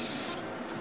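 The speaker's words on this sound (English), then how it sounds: "Just a little bit of Australian extra virgin olive oil spray from the olive tree" A short, close hiss of Australian extra virgin olive oil spray from a can, cutting off abruptly, then a second faint puff afterward.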